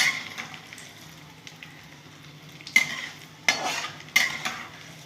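Pointed gourd (potol) frying in a pan under a soft, continuous sizzle. Three or four sharper scrapes and clatters from a spatula stirring it break through at intervals, close by.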